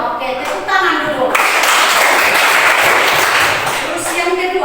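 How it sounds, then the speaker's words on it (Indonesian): Children in a classroom burst into applause, a close, loud patter of many small hands clapping that swells quickly and continues steadily, with a voice talking just before it starts. "tepuk tangan dulu"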